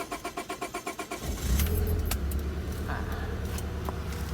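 A 1995 Honda Accord, a Japanese-market model with sunroof, starting up: a rhythmic starter crank for over a second, then the engine catches and settles into a loud, steady idle close by, with a few clicks on top.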